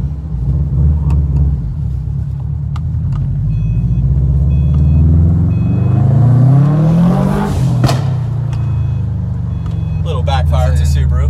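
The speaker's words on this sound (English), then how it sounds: "Little backfire to Subaru." A 2013 Subaru WRX with 61,000 miles rumbles and revs on a test drive, then lets out one sharp backfire pop near the end over the steady engine drone, with voices talking in the car.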